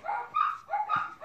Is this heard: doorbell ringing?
no